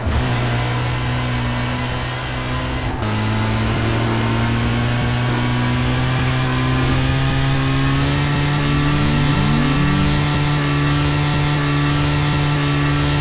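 A game car in GTA roars at speed, its engine droning loud and steady with rising, shifting tones through the whole stretch, with no talk over it.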